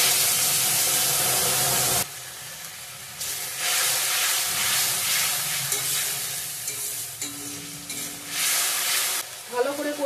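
Tomato paste hits a hot pan of cumin and ginger tempering for a paneer curry, first a loud burst of sizzle, then steady frying and scraping stirs close up, with a few sharper clinks near the end.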